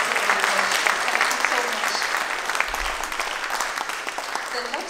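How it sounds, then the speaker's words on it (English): Audience applause follows a Bharatanatyam dance performance at an arangetram in Halifax, a dense, loud burst of many people clapping that stays full and steady, with some faint voices mixed in. "so please give them a round of applause."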